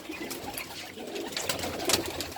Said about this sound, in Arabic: ده الحمام بتاعي طبعا.